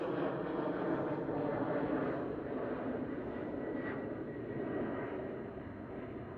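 A KLM Boeing 777 taxis toward the runway at Schiphol, its engines a steady mid-distance rumble that slowly fades slightly, with no voices over it.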